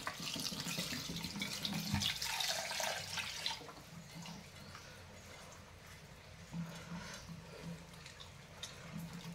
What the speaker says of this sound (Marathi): त्यात पाणी देऊया आपण शिजायला